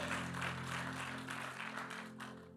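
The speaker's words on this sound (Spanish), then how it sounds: "Vamos, denle un aplauso al Señor." A church congregation applauds together, a steady wash of many hands clapping at moderate level for a few seconds, with a low organ or keyboard hum sustained underneath.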